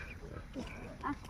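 Pigs on a farm give faint, low grunts mixed with muffled voices, set against a steady background hum with a couple of brief louder snorts near the end.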